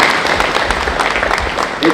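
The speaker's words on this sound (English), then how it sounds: "I think she deserves a round of applause" An audience at a 2023 NTHS induction ceremony claps in a dense, loud burst of applause that fills the hall.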